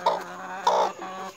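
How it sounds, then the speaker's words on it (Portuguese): A broody Carijó hen settled on her nest gives two short bursts of low, throaty clucking close by, with a faint steady tone running underneath. "essa galinha minha, Carijó. Ela está choca."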